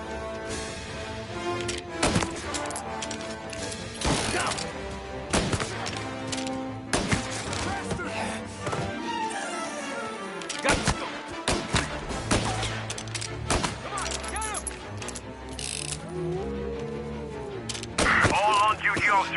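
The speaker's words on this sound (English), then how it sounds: "Gunshots being reported." Gunfire in the video game Mafia: Definitive Edition, sharp shots and bursts scattered through a busy mix of game music and effects, with voices talking over parts of it.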